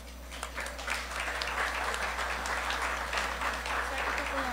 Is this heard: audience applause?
yes